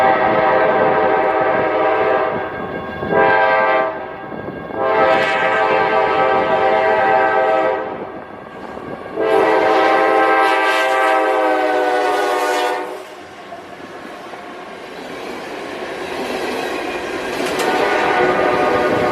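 An empty coal train led by two 1990s-era AC4400 locomotives sounds its horn in several long blasts, separated by short gaps, over the steady rumble and clatter of the passing train.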